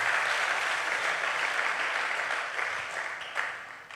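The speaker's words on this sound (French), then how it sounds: "Est-ce qu'on peut applaudir pour eux," A church congregation applauds the singers with steady, dense clapping that fills the room and tapers slightly toward the end, with a few louder claps standing out.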